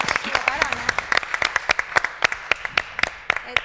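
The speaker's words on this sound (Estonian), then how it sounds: "ma paluksin ka suurt aplausi meie publikule" A small crowd claps in scattered, uneven bursts after a forum theatre performance, with a voice speaking briefly in Estonian at the start.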